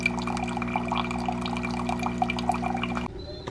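A coffee machine fills a cup with liquid, a steady trickling and dripping over a constant low mechanical hum, then stops abruptly near the end.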